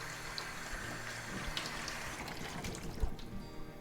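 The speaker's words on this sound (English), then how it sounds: "I'm going to give it a little bit of a final rinse" Tap water running to rinse a gum over platinum print, a faint steady splashing and trickling with small irregular spatters.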